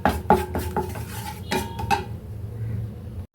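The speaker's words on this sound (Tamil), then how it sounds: "இப்போ இது ரெண்டுத்தையும் நல்லா கலந்து விட்டுட்டு நம்ம ஸ்டவ்வை ஆஃப் பண்ணிடலாம்." A spoon scrapes and clinks against a pan while mixing a gram-flour masala for palak chapathi, with several sharp metallic taps and scrapes in a quick irregular run, close and clear, no talking.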